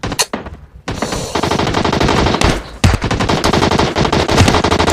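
Rapid automatic gunfire in the battle royale game PUBG Mobile, loud and close, with bursts of machine-gun fire that run almost continuously and short pauses between volleys.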